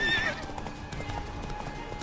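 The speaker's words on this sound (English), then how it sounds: "Looks like the horse doesn't like having a corpse riding it." A horse in The Witcher 3, carrying a corpse, whinnies loudly at the start, then hooves clop in a quick, steady rhythm over background game sounds.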